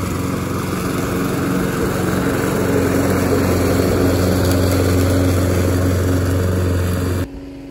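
A lawn mower runs steadily in a home garden, its engine droning at an even, close level for several seconds before cutting off abruptly near the end.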